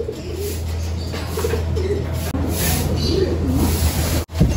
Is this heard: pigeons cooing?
yes